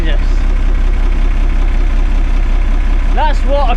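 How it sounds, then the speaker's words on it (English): A cold Cummins diesel engine idles with a steady, pulsing low rumble that stays loud and even throughout, and brief whistle-like chirps come in near the end. "That's what a Cummins engine does when it's cold."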